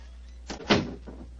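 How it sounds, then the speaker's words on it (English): A door closing in a cell, with a brief creaking slide followed by a solid thud of the door shutting, close and fairly loud against a low steady hum. "Please close the door behind us."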